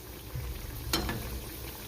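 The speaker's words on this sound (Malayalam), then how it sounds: "കയ്യിൽ വെച്ചതുപോലെ പ്രസ് ചെയ്ത് ചൂടായ എണ്ണയിലേക്ക് ഓരോന്ന് ഇട്ട് കൊടുക്കാം." Parippu vada, lentil fritters, dropped into hot oil and frying with a low steady bubbling and sizzle, plus one sharper burst of spattering midway; no talking.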